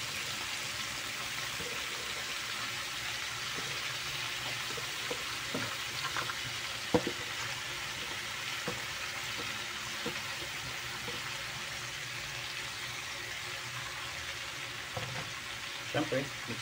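Pechay and pork sizzle steadily as they are stir-fried for ginisang pechay, a dense, even frying hiss with occasional soft knocks and scrapes of mixing, close and continuous, with no voices.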